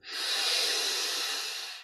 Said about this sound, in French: On prend une inspiration profonde